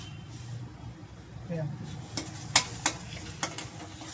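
A spoonful of onion garlic paste goes into a pan of vegetable bhaji, followed by a soft sizzle and several sharp spoon scrapes and knocks against the pan, with a voice speaking briefly.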